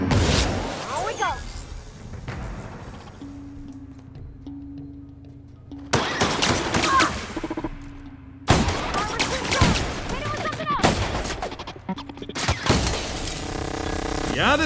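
A scoped sci-fi gun in The Outer Worlds video game fires in several loud bursts separated by quieter stretches with a low hum, mixed with mechanical clatter, and someone talks between the shots.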